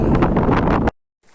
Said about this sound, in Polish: potężny wiatr w twarz jest po prostu masakra